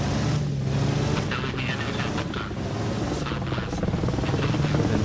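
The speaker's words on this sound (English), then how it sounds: "And that's a helicopter flying by." A Soviet Hind helicopter passes in a military video game, its rotor thump and engine roar steady and close, blended with vehicle rumble and faint background voices.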